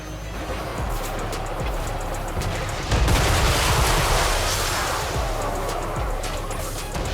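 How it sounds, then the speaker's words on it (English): Hellblaze Panzer tank turret in Total War: Warhammer 3 firing in a rapid Gatling-style stream, a dense, unbroken roar of gunfire that swells louder about halfway through and stays heavy to the end. "the Hellblaze Panzer, I'm a really big fan of this turret. I just like watching it fire, and I like that it's kind of like a Gatling gun"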